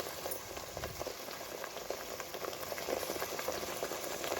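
Green paste for mint rice simmering in oil in a pot, a steady close bubbling sizzle with fine crackling pops running continuously throughout.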